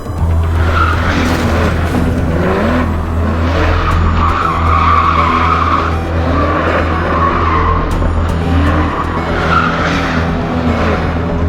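Video game car in GTA 5 driving hard with repeated tire squeals and skids over a steady, loud engine drone, the screeches rising and fading across the run.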